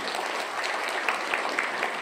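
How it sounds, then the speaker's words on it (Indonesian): Audience applause for an Islamic school (madrasah) at an official Indonesian ceremony, a steady dense wash of many hands clapping throughout, fairly loud and sustained. "Tepuk tangan dulu untuk madrasah kita"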